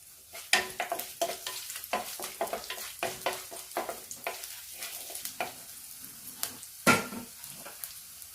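Curry leaves and garlic crackle in hot oil in a pan with whole cardamom, cloves and cinnamon. A rapid series of sharp sizzling pops and spoon scrapes comes close and loud, then thins out into sparser bursts.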